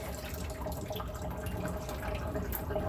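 Water with eggshells is poured from a pan into a kitchen sink, a continuous splashing and trickling flow with small drips, close and fairly loud, no talking.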